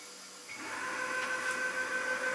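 A CNC lathe under Mach 3 control cutting threads starts up with a rising mechanical whine that settles into a steady tonal hum with a faint hiss, alone without talk.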